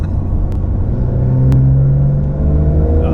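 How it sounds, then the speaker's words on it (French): A Porsche 911 Dakar's turbocharged engine rumbles and blips its throttle on a downshift, a loud, close, low drone that swells briefly in revs before settling, with no talk over it. "lorsque la voiture rétrograde, avec évidemment le petit coup de gaz qui va bien"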